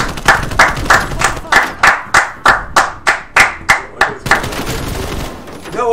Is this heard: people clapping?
yes